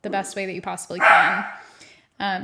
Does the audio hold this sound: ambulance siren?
no